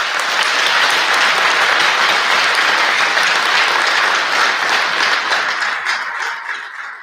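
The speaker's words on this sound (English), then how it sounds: "Let's give him a round of applause" A crowd at a corrections officers academy graduation gives a loud, steady round of applause that holds for several seconds before tapering off.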